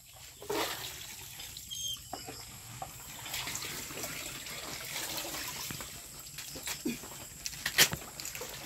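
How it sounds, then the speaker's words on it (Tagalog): Water splashes and trickles as it is poured in a household setting, moderately faint, with intermittent clatter and background noise. "Lagyan mo ng tubig."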